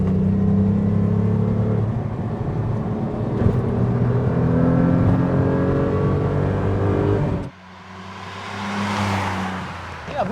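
A Renault Clio V6 engine revs hard in third gear, a loud rising roar heard from inside the car, which cuts off abruptly before a quieter rush of road and wind noise.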